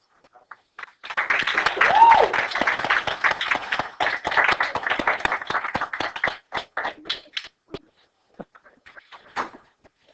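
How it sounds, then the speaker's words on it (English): A classroom group breaks into clapping as someone walks in, a ragged burst of many hands that builds quickly, holds for a few seconds and then thins into scattered single claps. "Start clapping for when she comes in."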